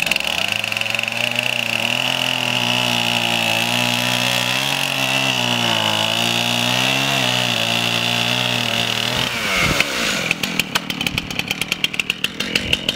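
A chainsaw cuts into a log lying on its side for woodturning blanks, running loud and close with a steady engine whine that shifts slightly under load, then breaks into a rattling, sputtering idle near the end.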